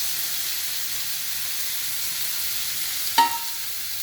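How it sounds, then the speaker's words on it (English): Tomatoes frying in a pan for papaya bhurji give a soft, steady sizzle and hiss, broken once by a brief sharp clink of the stirring utensil against the pan. "And please continue stirring it"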